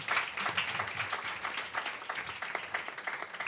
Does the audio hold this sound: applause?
yes